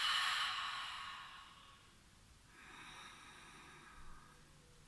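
A long audible exhale through the nose and mouth during a beginner Pilates exercise, a soft airy breath that fades, followed by a second quieter exhalation, close and faint with no talking.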